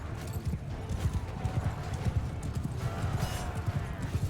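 Horse hooves clip-clopping in the video game Mount & Blade II Bannerlord, a steady close trot of rhythmic thuds, with a brief whinny and faint battle noise behind.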